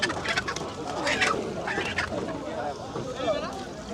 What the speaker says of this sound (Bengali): এই মোরগটা দেখেন দেখার মতো, চরের মোরগ।